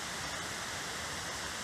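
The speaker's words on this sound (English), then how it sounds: "Here's another view of the waterfall." A waterfall beside a cliff gives off a steady, even rushing hiss of falling water, faint and continuous with no other sounds.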